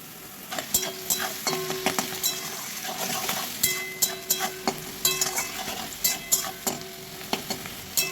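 Spices and ingredients frying in a pan for fried rice, with cardamom among them. A steady close sizzle runs throughout, broken by repeated sharp scraping and clinking of a spatula stirring against the pan.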